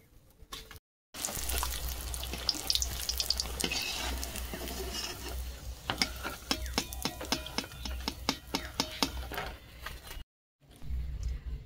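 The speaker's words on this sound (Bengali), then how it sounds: "এইভাবে প্রত্যেকটা চপ ভেজে নেবো হালকা করে।" Shop-style potato chops fry in hot oil with a steady, dense sizzle, broken later by a run of sharp clicking taps as the pieces are stirred and turned.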